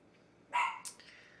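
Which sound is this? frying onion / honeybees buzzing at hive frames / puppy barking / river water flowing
puppy barking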